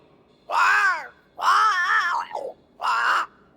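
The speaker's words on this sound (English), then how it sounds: "It's SIRIDEAN, by way of the invisible, speaking through the crow." A crow caws three times in Banishers: Ghosts of New Eden, loud and close, with short pauses between the harsh calls.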